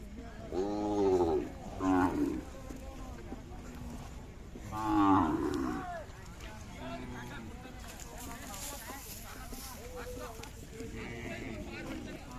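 Khillar cattle at a village fair in Umadi, with two loud deep moos near the start and middle over a busy crowd, while people talk nearby.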